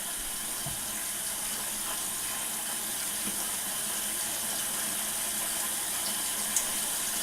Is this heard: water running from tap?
yes